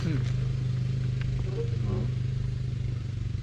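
A KTM LC2 two-stroke motorcycle engine runs steadily close by, a constant low throb with rattly mechanical clatter throughout, and a voice speaks briefly over it.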